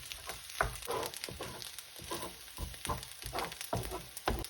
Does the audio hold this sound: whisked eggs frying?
yes